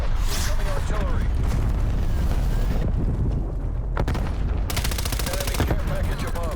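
Incoming artillery in Call of Duty lands as heavy booms and rumbling blasts mixed with rapid gunfire, a dense, loud battlefield din with a sharp burst of automatic fire near the end.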